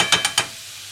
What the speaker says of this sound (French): Vous entendez le crépitement.